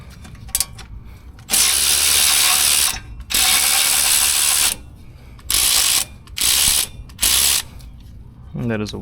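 A hand ratchet loosens an 8 mm dust shield bolt on a 2010 Ford Raptor truck wheel, clicking in several loud, close bursts with short pauses between strokes.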